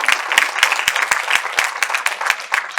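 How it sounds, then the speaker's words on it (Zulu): Audience at a foundation honouring ceremony for a legendary musician applauding the documentary makers, a lively, even patter of many hands clapping close and loud for a few seconds. "Shayela ihlombe abenzi bale documentary."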